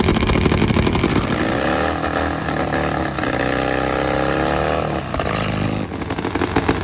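A carbureted, nitromethane-burning, high-gear-only drag racer engine roars loudly and continuously nearby, rising in pitch as it pulls hard and then cutting off abruptly near the end.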